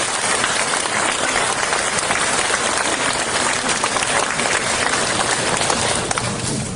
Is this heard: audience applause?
yes